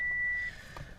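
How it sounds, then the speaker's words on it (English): A steady high-pitched electronic beep sounds from a Subaru STI's interior while an aftermarket AEM gauge is being wired in, holding for about half a second before cutting off, leaving quiet cabin hum. "Sorry about that light, or that beeping."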